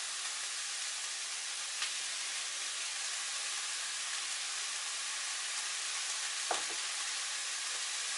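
Sliced onion and carrots cut into thin slices fry in a pan with a steady, even sizzle, and a single scrape of stirring comes near the end.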